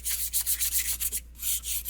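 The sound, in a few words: sanding wooden guitar edges with sandpaper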